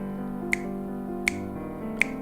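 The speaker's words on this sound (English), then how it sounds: "it's basically what a metronome sounds like" Three evenly spaced sharp clicks or snaps mark a steady metronome-like pulse, heard over a sustained piano-like tone in a piano music lesson.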